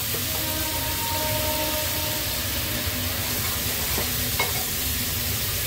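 Malvani masala paste of ground wet coconut frying in a pan, with a steady broadband sizzle and occasional scraping stirs throughout, close and moderately loud, no voices.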